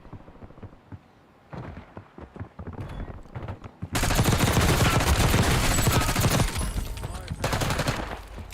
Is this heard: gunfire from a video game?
yes